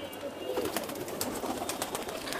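Pigeons kept in a loft, flying and breeding birds together at feeding time, coo in a steady overlapping murmur. Several birds call at once at moderate distance, with scattered flutters and rustles throughout.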